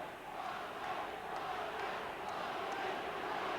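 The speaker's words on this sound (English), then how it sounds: "The crowd getting behind the Australian green and gold as Roach takes it up" Rugby league crowd at a 1986 Australia versus New Zealand Test, a dense, continuous roar of cheering spectators at a distance, steady and fairly faint throughout.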